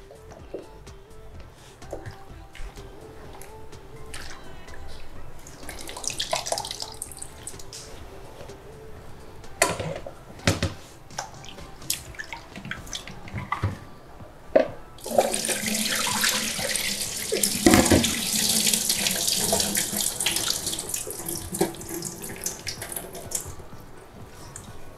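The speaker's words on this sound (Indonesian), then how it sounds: "ini bilasan pertama saya pakai air keran aja dulu ya" Tap water streams into a sink while salted mustard greens are rinsed, splashing unevenly at first and then gushing louder and steadier in the second half, with no talking.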